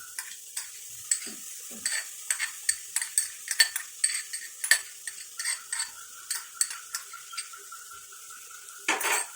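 Marinated Gobindobhog rice being stirred in a pot for paneer murighonto, with a steady run of close, sharp metal spatula scrapes and clinks against the vessel over a faint sizzle, no voices.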